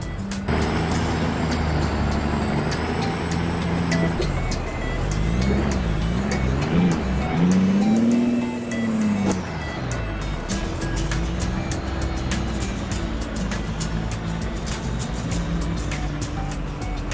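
A big rig hauling new Kenworth trucks on a trailer parks in American Truck Simulator. A continuous diesel engine rumble rises and falls with revving, with a brief air-brake hiss and faint beeping over the steady idle.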